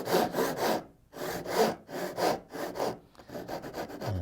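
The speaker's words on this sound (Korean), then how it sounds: "마찬가지로 톱질을 하는 거죠" A hand saw cuts a dovetail joint in wood in steady back-and-forth strokes, each rasping pass loud and close, with brief pauses between groups of strokes.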